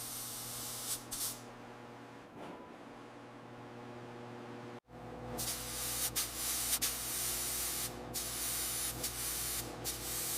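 Spray gun sprays tuxedo black paint onto a 1928 Isotta Fraschini 8A in long steady hissing passes, one brief pause midway, close and continuous.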